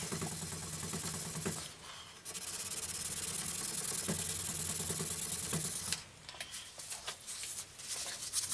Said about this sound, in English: we'll start just with oil and a bit of green Scotch-Brite, working our way down the metal surfaces